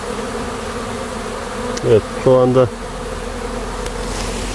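Italian honey bees buzz steadily at the hive during a brood flight, a dense continuous drone with a short spoken phrase rising briefly above it.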